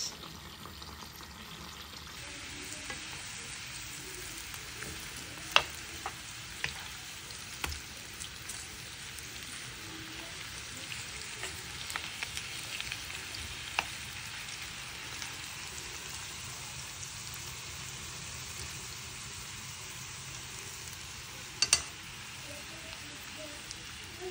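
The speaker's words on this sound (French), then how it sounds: "Je fais dorer des deux côtés." Food browning in a hot pan, cooked on both sides, gives a steady soft sizzle and crackle with scattered small pops throughout, fairly close and unbroken by speech.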